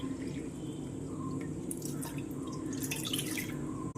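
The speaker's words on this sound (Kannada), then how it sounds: "ಈಗ ನೀರು ಹಾಕೋನು" Water trickles and drips into a heavy-bottomed kadai, a soft, continuous splashing with a few brighter splashes near the end, faint and close, with no talking.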